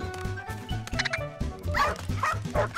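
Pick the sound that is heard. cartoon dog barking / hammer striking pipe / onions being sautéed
cartoon dog barking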